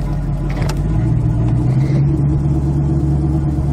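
A Ford Fairmont with a C4 transmission that won't shift into drive idles steadily, a loud, close, low rumble holding even from start to finish.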